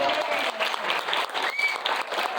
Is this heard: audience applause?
yes